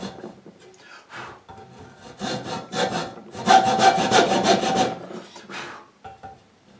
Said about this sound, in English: I got to be really careful to make these marks with my hacksaw first